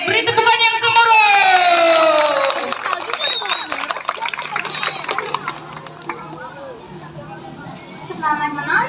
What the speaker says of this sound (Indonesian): Beri tepukan yang gemuruh.